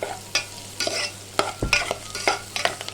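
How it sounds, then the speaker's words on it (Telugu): Onions and green chillies frying in a pan while a spoon scrapes and stirs them, giving intermittent close scraping strokes over a low sizzle, with no voices. "పచ్చిమిరపకాయలు ఇవన్నీ కూడా మగ్గినాయి"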